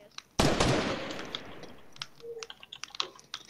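A sharp burst of video game gunfire opens with a loud crack and decaying blast, followed by scattered faint clicks and small pops.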